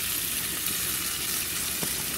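Chopped tomatoes hitting browned sausage, onion and bacon in a Dutch oven, giving a loud, dense, continuous sizzle with a brief scrape partway through.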